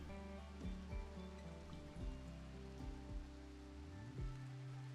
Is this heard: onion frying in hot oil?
no